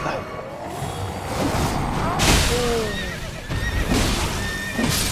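Horses neigh and whinny in the video game Elden Ring, where two riders appear on horseback. Several drawn-out whinnies rise and fall close by over faint hoof clatter and game noise, with a voice talking in places.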